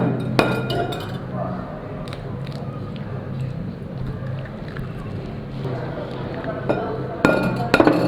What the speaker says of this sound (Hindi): इसी तरह हम सब अंडे जो है ना तोड़ लेंगे